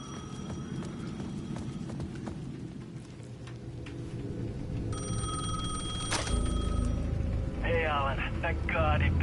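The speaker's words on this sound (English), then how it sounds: "The payphone at the edge of the plaza was ringing again." A payphone rings in the video game Alan Wake 2, its electronic bell trilling in bursts over a bed of rain, distant thunder and game ambience, with other sounds joining toward the end.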